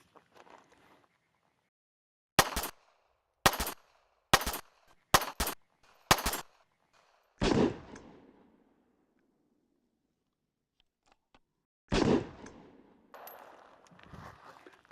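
Kel-Tec P32 .32 ACP pocket pistol fired outdoors, five sharp cracks spaced about a second apart, then two more isolated shots with short echoing tails, loud and alone.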